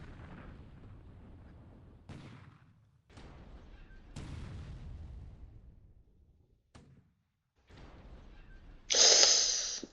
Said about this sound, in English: still getting duds, but the 3-inch gun is doing some damage here